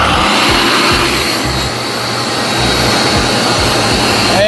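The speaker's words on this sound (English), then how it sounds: "I can cut on my vacuum." Workshop vacuum running in a woodworking shop where a mahogany door jamb is being built, a loud steady broadband roar sustained through the whole stretch with low pulsing underneath and an overhead air cleaner also on.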